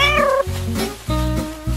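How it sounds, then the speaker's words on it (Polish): A cartoon cat lets out three loud, close meows in quick succession, the first rising and stretched, the next two shorter and clipped. "Kotka od razu chce się bawić."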